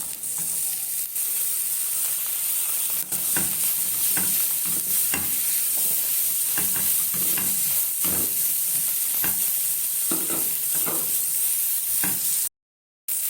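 Red and green peppers being stir-fried with garlic in a pan, with a steady sizzle broken by repeated scraping stirs of a utensil. There is no talking, and the sound cuts out briefly near the end.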